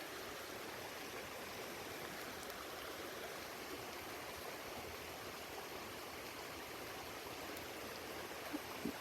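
A creek running over rocks on a rainy day: a steady, broadband rush of flowing water, close and unbroken for the whole stretch, with no voices.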